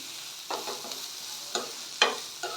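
Vermicelli for upma being lightly fried in a pan over high flame with salt, heard as a few short scraping stirs and soft sizzle bursts spaced apart, close and fairly quiet, with no talking.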